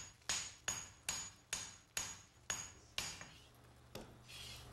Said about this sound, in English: Hammering gradually draws the metals out into a single long blade.